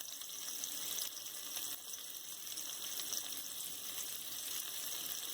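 Chopped garlic and scotch bonnet pepper frying in oil in a curry pot, giving a continuous bright hiss at a quiet level with no talk.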